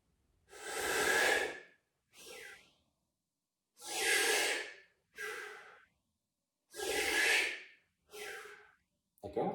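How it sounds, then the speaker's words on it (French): Deep breathing in the Wim Hof method, filling the belly and then the chest: three cycles of a long, loud, airy inhale followed by a shorter exhale, close to the microphone with brief pauses between breaths. "on va commencer par une respiration basse et on va aller en remontant"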